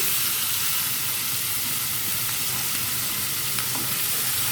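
Chopped onion and garlic frying in oil, a dense, even sizzle and hiss that holds steady throughout, close and without talking.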